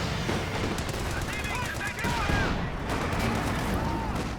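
Machine gun and rocket fire in a World War II strategy game, with a Raketenwerfer position under barrage. Dense, continuous rattling bursts of gunfire and blasts sit over a busy battle din, and a voice talks over parts of it.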